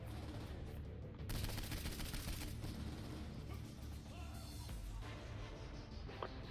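Gunfire from the video game Saints Row 4: dense, rapid bursts of shots that sound like automatic weapons, layered into a loud, continuous barrage with a sharper surge of fire partway through.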